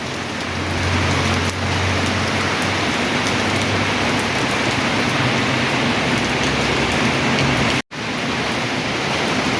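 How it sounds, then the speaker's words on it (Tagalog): Steady rain falls in a broad, continuous hiss, loud and enveloping, with a brief dropout near the end and no voices. "Kaya bumagsak na yung ulan, pero hindi ganong malakas kalakasan."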